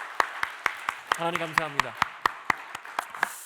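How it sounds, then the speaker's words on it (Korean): A church congregation at a Korean worship service claps in a steady, even rhythm of about four beats per second, and someone speaks briefly over the clapping partway through. "우리 하나님께 좀 감사의 박수 한번 드리고 우리 말씀 듣도록 하겠습니다."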